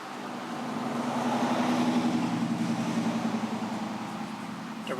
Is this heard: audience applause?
no